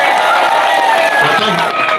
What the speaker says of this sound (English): Big round of applause, Mark Hudson.